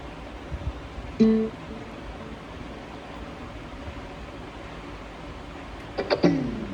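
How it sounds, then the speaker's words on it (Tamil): A JBL Go 2 portable Bluetooth speaker plays its brief power-off chime, a short tonal blip heard twice against steady background hiss, once early and once near the end. "இது வந்து ஆஃப் ஆகிற சவுண்டு ஃப்ரெண்ட்ஸ், கேட்டிங்களா?"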